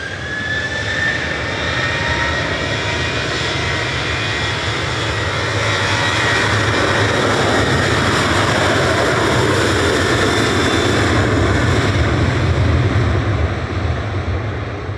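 A Jet2 jet airliner departs Manchester Airport on flight LS891 bound for Lanzarote, its engines roaring steadily and loudly for the whole stretch with a whining tone on top and no talking.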